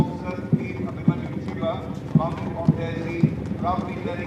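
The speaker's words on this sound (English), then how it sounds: "4 horses with their flag bearers" Horses' hooves clip-clopping on the ground in an NCC cavalry parade, four horses with flag bearers passing, sharp evenly spaced strikes about every half second over wind noise and a background voice.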